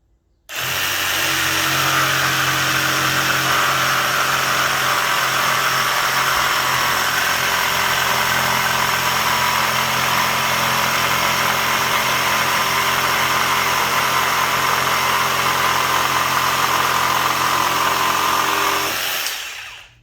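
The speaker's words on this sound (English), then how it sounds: "Now let's just do a quick cut, full speed, aggressive blade, and see how well it cuts." A Ryobi One+ cordless jigsaw with an aggressive blade cuts at full speed, a loud, steady, buzzing motor whine that runs unbroken for nearly twenty seconds before stopping abruptly.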